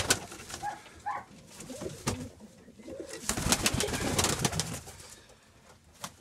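Domestic pigeons coo repeatedly in a dovecote on a windy day, soft throaty calls overlapping at close range over a rustling, gusty background.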